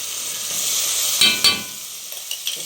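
Garlic hits a hot pan while black-eyed peas are being cooked, and a bright, hissing sizzle builds close by. A couple of sharp clinks from stirring cut through the frying.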